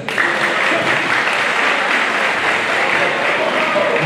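Audience at a general assembly applauding, a dense, steady wash of many hands clapping that holds loud and even from start to finish.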